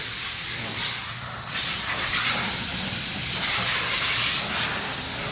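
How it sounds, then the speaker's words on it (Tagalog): Compressed air blasts steadily to blow dust off a car, a loud continuous broadband hiss with slight surges, close and without talk. "Hanginan ni kuya para matanggal yung mga alikabok."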